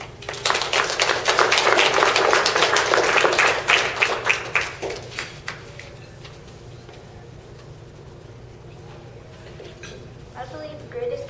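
An audience claps loudly and densely at a student speech event for about five seconds, the applause tapering off into a quiet room with a faint voice afterward.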